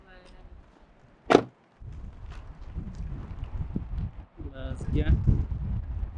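Gusty wind buffeting the microphone in low rumbling bursts, with people talking over it and a sharp knock early on.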